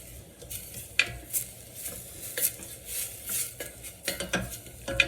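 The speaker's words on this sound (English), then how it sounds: "Now I can add my garlic, chopped garlic. Make it a little brown." Chopped garlic sizzles in a pan of tomato soup base while a utensil stirs and scrapes against the metal, producing irregular clinks and a soft continuous fry.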